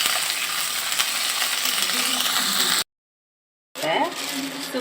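Crab pieces frying in a pan for Jenji Sukka, a steady close sizzle filling most of the clip, cut by a brief silent gap before the frying noise resumes.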